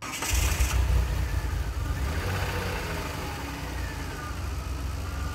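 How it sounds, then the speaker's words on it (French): A DeLorean DMC-12 V6 engine runs steadily with a low, even rumble, fairly loud and close, after a brief rougher start at the beginning. "le moteur est pas très bruyant pour un V6"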